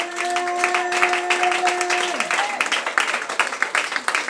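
A church congregation applauding, a steady patter of many hands clapping that grows a little more ragged toward the end, with a sustained musical tone heard beneath it at first.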